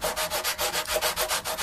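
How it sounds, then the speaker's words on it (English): Sanding on a guitar's frets during a superstrat setup, a steady back-and-forth rubbing stroke repeating about ten times in under two seconds, close and fairly loud with no talk. "I can be a little bit more aggressive with the sanding now"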